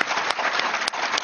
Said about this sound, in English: I'm so grateful for your support and applause, but you're taking my time.